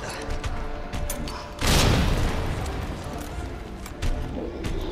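A hand grenade detonates in the Resident Evil 2 Remake, a loud booming blast that swells suddenly and rumbles away over several seconds amid background game noise.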